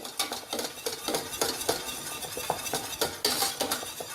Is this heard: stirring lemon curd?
yes